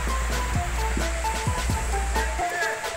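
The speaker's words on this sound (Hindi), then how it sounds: "गौमुख में बहुत गर्म पानी आता है" Hot spring water gushes steadily from a gaumukh spout at a Hindu temple bathing tank, a continuous loud rushing splash with brief low knocks and faint voices in the background.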